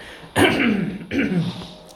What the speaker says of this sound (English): I've got a bit of a cough right there